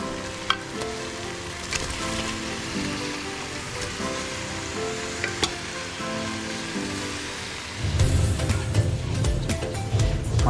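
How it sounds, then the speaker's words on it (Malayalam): Cooked mutton tipped into a pepper masala sizzles steadily in the pan while being stirred, with scraping knocks throughout; the frying grows louder and denser near the end. No one speaks. "മട്ടൺ തട്ടിയതിന് ശേഷം നല്ല രീതിയിലൊന്ന് മിക്സ് ചെയ്ത് കൊടുക്കുക മസാലയായിട്ട്."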